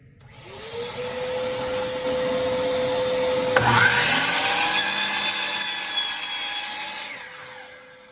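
A miter saw spins up and cuts a wooden board for a finger joint box, a steady loud motor whine running through most of the clip with the blade biting into the wood midway, then winding down.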